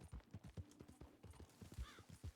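Thoroughbred horse hooves in Red Dead Redemption 2 beat a quick, even clip-clop at a walk or trot, soft and fairly distant, with a faint whinny partway through.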